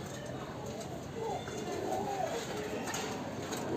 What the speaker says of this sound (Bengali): এখানে কবুতরগুলো আছে, এগুলো আমরা ঘরে নিয়ে যাব